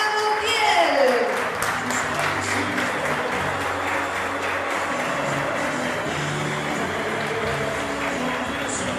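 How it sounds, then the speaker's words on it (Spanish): An audience warmly applauds the arrival of a woman football referee at a public event: sustained clapping that is loudest at the start and then settles into an even round, with some voices murmuring underneath. "Recibimos con un fuerte aplauso a Daniela Montiel."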